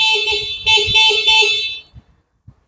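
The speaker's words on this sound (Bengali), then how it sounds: "এখানে রয়েছে হর্ন সুইচ।" An electric bike horn on a new-model Dragon e-bike gives three loud, shrill electronic beeps in quick succession, each roughly a third of a second long, followed by faint handling clicks and then quiet.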